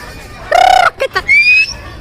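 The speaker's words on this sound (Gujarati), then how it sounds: "જો ઓલા પણ છે મોટો જબરો પોપટ." A large parrot calls in the jungle, giving a few loud, harsh, strained cries in quick succession, close and clear over a quiet background.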